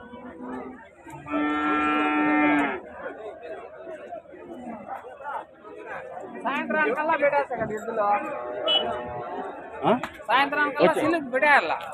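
Ongole breed bulls at the Punganur cattle market, one long harmonic moo standing out early, with more lowing mixed into busy crowd chatter and nearby talk.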